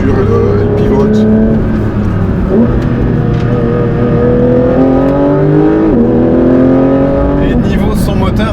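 Porsche 911 992 GT3 RS engine heard from inside the cabin, a loud, steady drone with shifting pitch as the revs climb and ease under gear changes, with people talking over it.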